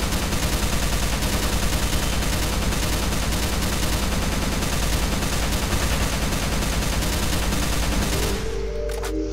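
Rapid, sustained gunfire from a Roblox game rattles on loud and unbroken for several seconds, with dense automatic bursts that cut off abruptly near the end.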